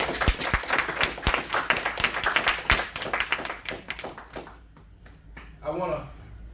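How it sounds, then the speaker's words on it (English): A church congregation claps hands in praise to the Lord during a morning service: dense, fast claps fill the room, then thin out and fade toward the end, with voices underneath. "give the Lord a hand clap of praise this morning"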